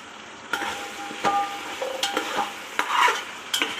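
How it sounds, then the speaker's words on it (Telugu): Vegetables such as drumstick, carrot, beans and okra for South Indian bisibele bath being stirred in a hot pan, with scraping clinks of a spoon and soft sizzling in irregular bursts, close and moderately loud with no talking. "మనం కట్ చేసి పెట్టుకున్న వెజిటేబుల్స్ అంతా దీంట్లో వేసేయాలి"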